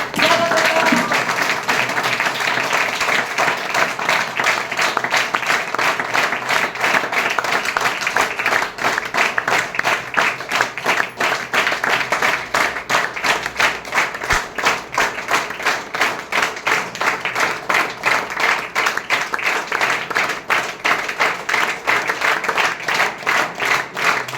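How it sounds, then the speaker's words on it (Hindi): Loud, sustained audience applause welcoming a guest at a closing event, dense clapping that continues steadily throughout without a break. "हल्ला गुल्ला के साथ जोरदार तालियों के बीच में हम स्वागत करना चाहेंगे"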